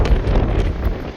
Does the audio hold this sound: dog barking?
no